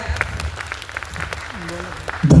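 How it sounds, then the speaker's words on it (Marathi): An audience applauds a young woman at an award ceremony in Pune, with scattered clapping under a voice speaking over it and a louder burst right at the end. "या ताईसाठी जोरदार टाळ्या"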